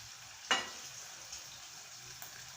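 Chicken curry, south Indian style, frying in a pan while being stirred: a faint steady sizzle with one sharp clink of a spoon against the pan early on and a couple of softer taps later.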